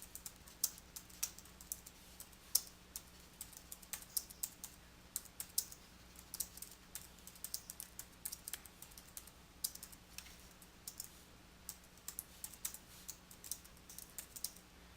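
Paragraph text is typed on a computer keyboard, a quiet, close stream of irregular key clicks with short pauses between bursts over a faint steady hum.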